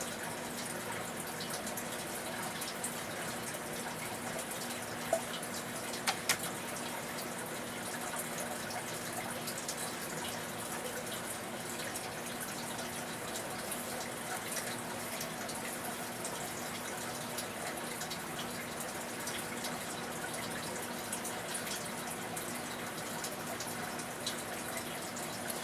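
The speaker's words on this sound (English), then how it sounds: "now I'm just going to pour the wax in here with one corner and then work my way around" Melted wax poured into a plastic mold at a forge-building workshop, a steady soft liquid flow with faint splashing and trickling that runs continuously without pause, close and even.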